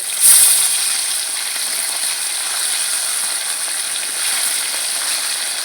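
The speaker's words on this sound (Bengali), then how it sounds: "এক পিট ভাজা হয়ে গেছে আর এক পিট আমি উল্টে নিচ্ছি" Olive barb fish fry in hot oil as they are turned over, a steady close sizzling hiss with a brief louder splatter near the start.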